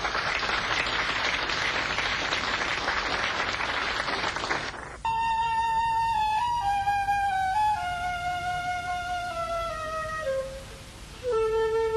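Applause from a live audience at a 1971 jazz concert in Hamburg, Germany, loud and continuous for about five seconds, then breaking off into a sustained tonal drone with shifting pitches.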